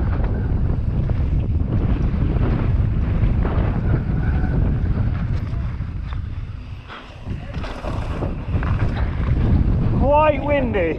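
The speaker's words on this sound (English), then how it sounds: "Quite windy." Gusty wind buffets the microphone on a rocky mountain bike trail, a steady loud roar with brief dips, joined near the end by a high squeal like squeaking brakes.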